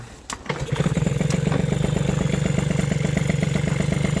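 A moped fitted with a stock-type Fox 49.1 cc cylinder restarts with a sharp cough and settles at once into a loud, close, rapid two-stroke idle that pulses evenly.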